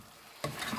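Cauliflower, chicken and potatoes are stirred in a cooking pot, a sudden close scraping and sizzling rustle that begins partway through this very short moment.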